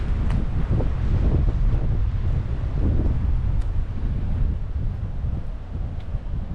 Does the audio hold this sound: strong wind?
yes